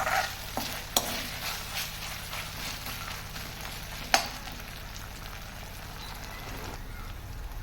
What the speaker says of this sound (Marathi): आता आपण यामध्ये घालून घेणार आहोत आलं आणि लसूण पेस्ट आणि तिचा कच्चा वास जाईपर्यंत आपण तेलात छान ती परतून घेऊया